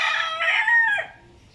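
A backyard gamecock rooster crows close and loud, one drawn-out call that fades at the end, with no other sounds around it.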